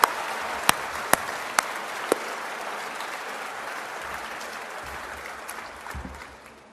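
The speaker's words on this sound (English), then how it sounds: "that deserves everyone to cheer" A crowd at a campus celebration event claps in steady, moderately distant applause, with a few sharp individual claps standing out early on.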